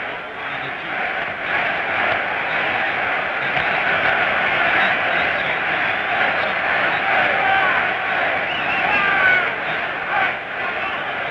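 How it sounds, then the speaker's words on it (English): Boxing arena crowd at a 1966 heavyweight bout in London, a big sustained roar of cheering and chanting that swells and rolls continuously, distant and dense, with no clear single voice. "the crowd felt there was a need there for a cheer and started chanting Henry, Henry"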